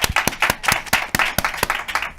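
Audience applause at a real estate talk, a steady patter of many hands clapping with sharp, evenly repeated claps standing out, fairly close and with no talk over it.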